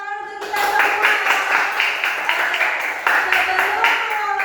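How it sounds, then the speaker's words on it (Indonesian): A class of second-grade schoolchildren at SD Negeri 6 clapping together in a classroom, a dense, steady burst of many small hands with children's voices mixed in. "Oke, tepuk tangan untuk kita semua."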